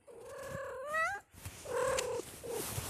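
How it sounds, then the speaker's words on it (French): A house cat climbing around a person playing a mobile game vocalises close by in two drawn-out, rising-and-falling calls separated by a short pause, loud and clear with no talk over them. "il y a mon chat"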